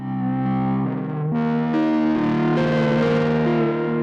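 Chase Bliss Generation Loss pedal with its saturate knob pushed to mimic an overloaded tape recorder record head, giving sustained, loud distorted chords that shift pitch every second or so, with a gritty, warm edge and no talking.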